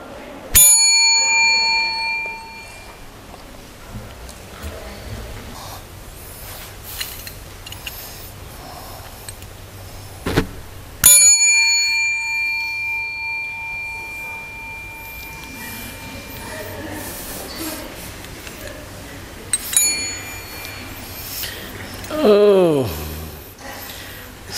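A meditation bell rings out at the start of Buddhist practice, a clear resonant strike whose tone decays slowly over several seconds, then sounds again about ten seconds later and once more near the end, with a low room hum beneath.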